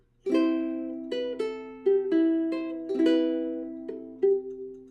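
Fingerstyle ukulele chords, C6 shape with open strings, plucked alone in about six separate ringing strums that decay between attacks, close and moderately loud.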